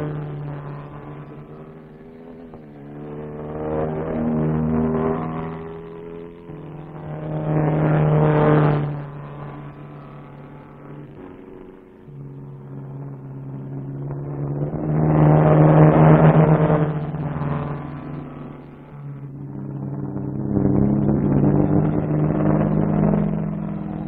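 Moskvich race cars in a 1958 Soviet 200-kilometre road race rev and pass one after another, engine drones swelling and fading in several waves as each car approaches and recedes.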